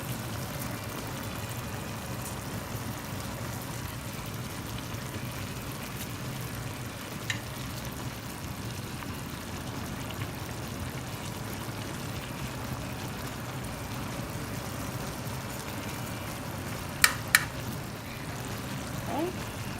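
Chicken adobo with onion sizzles steadily in a pan, a constant close frying hiss that runs the whole time. A couple of faint clicks break through near the end.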